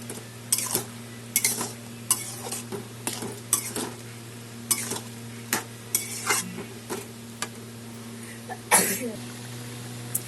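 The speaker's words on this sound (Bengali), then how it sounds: "2 চামচ পোস্ত বাটা আছে, আর দিলাম চিনি। দিয়ে একসাথে নাড়বো।" Poppy seed paste and sugar being stirred in a pan for ridge gourd posto, with a steady background hum and repeated scraping, clinking strokes of a spoon against metal in an irregular rhythm, close and moderately loud.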